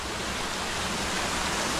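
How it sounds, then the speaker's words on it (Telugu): Steady, dense roar of a waterfall in the Srisailam forest, continuous broadband rushing water close by with no voices. "ఫ్రెండ్స్ చూడండి ఫ్రెండ్స్, మనం వాటర్ ఫాల్ దగ్గరికి వచ్చాం."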